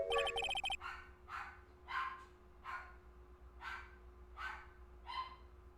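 A cartoon dog in the Phoenix Wright: Ace Attorney video game barks in seven evenly spaced yaps after a short burst of game chime sounds, with a steady electronic tone holding underneath.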